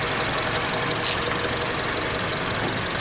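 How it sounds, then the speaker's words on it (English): Loose cover rattling on the running engine of an overheating Chevy Cruze, a fast, continuous metallic ticking and chattering over a steady engine hum, heard up close. "That's just that cover, it rattles."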